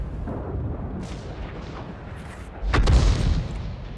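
Tank cannon fire in World of Tanks: one heavy booming shot lands near the end, loud and close after a stretch of lower battlefield rumble.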